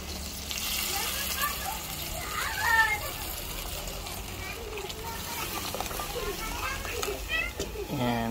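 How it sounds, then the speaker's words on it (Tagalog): Water is poured into a pot of chicken tinola as it cooks, a steady splashing pour heard under busy background chatter and children's voices. "Add na po natin yung tubig."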